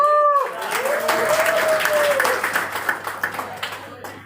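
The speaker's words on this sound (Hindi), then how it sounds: "सेवन जनरेशन की बात किया तो बहुत कम तालियां बजी।" An audience claps and applauds at a live speech in Ahmedabad, a full wash of clapping that thins into scattered individual claps toward the end, with a brief voice at the start.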